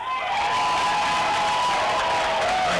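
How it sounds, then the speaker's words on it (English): Crowd at a high school 3A playoff football game cheering and applauding after a first down, a steady roar of voices, claps and whoops that holds loud and level throughout. "And they cheer"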